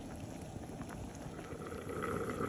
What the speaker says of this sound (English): Okay, it's boiling.